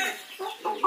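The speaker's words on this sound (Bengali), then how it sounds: "এই যে টাইগারের মুরগ, আর ওই যে দেখতে পাচ্ছেন টাইগারের মুরগিটা ওই দিকে চলে গেছে" Tiger-breed chickens cluck in short, separate bursts, close and moderately loud, with no voices in the clip.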